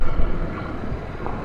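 Steady wind buffeting the microphone, a low rumbling roar that stays constant throughout with no voices.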